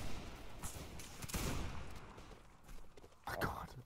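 Ragged volleys of gunfire rumble from a North and South Gettysburg battle game with the 32nd Regiment of Foot, swelling and fading in overlapping crackles, with a sharper burst near the end, mixed with faint voices.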